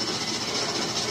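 Moving train in the video game Gears of War 3 gives a steady, fairly faint rumble and clatter of rolling wheels that continues without a break.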